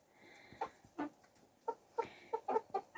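Two black hens cluck in a series of short, quiet bursts, irregular then quickening toward the end, nearby with no voices.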